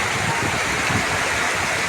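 Deep floodwater rushes and churns continuously through a flooded yard, a dense, loud, unbroken wash of flowing water close by with no pause.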